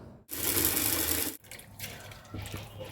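Sabudana (sago pearls) are washed in water, a close splash and pour of water that starts abruptly, rushes for about a second, then drops to quieter swishing and trickling.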